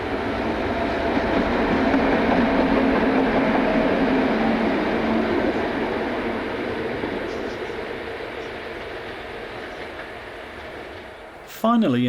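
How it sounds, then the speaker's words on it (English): A Class 232 diesel locomotive rumbles past at a German rail location, a loud broad roar that swells and then slowly fades as it moves away, ending in a brief clunk. "This is 232345, a locomotive currently allocated to Rostock depot."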